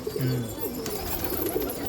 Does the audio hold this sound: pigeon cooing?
yes